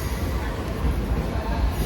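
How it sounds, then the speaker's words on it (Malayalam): Train on railway tracks on the Punalur–Madurai Express route in south India, a steady close rumble of the train rolling along the rails with a continuous low roar and faint wheel noise throughout, no voices. "ഇതൊരു ട്രെയിൻ അവിടെ കിടക്കുന്നു."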